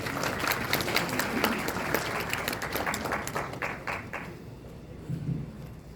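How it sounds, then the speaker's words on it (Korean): Applause at a university degree ceremony, a dense wash of clapping from the assembled graduates and guests, steady through most of the stretch and thinning near the end. "박수 부탁드리겠습니다"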